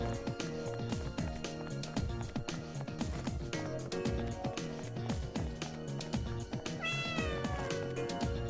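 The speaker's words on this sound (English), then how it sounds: "so that's where these cats are going to" Cats meowing in the video game Raidou Remastered: repeated meows and a rising caterwaul over rhythmic game music, fairly faint and with no talk.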